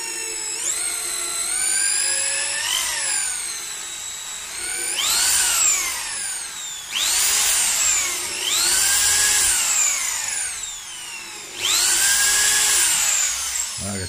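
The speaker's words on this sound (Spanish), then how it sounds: "Baja el taladro aquí." Drill press boring into wood for a motorcycle sissy bar, rising in pitch on each of four loud, sustained whining bursts separated by short pauses, close and alone.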